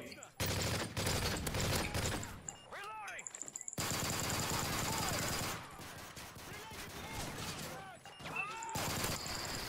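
Dense automatic gunfire from Call of Duty Modern Warfare 3 Survival mode on the Village map, sustained bursts nearly throughout with brief gaps, mixed with game effects and a voice talking over it.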